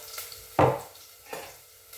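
A cooking pot being stirred in a home kitchen, two distinct scraping strokes of a utensil against the pot about three quarters of a second apart, close and fairly loud, with no talk.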